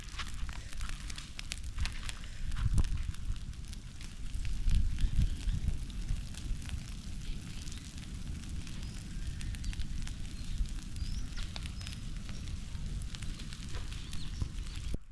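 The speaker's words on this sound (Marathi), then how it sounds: "दाढीला आग घालून झाली आहे" A field stubble fire on a Konkan farm crackles and pops with scattered sharp snaps over a low rumbling roar, steady throughout, with gusts of wind pushing against the microphone.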